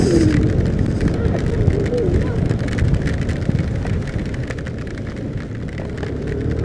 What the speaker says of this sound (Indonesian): Wah, hujannya lebat guys.